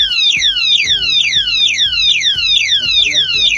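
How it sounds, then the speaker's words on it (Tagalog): A cheap anti-theft motorcycle lock alarm shrieks loudly and up close, a rapid repeating series of descending electronic whoops sounding continuously with no pause. "Nag-alarm siya. Nag-set siya ng alarm."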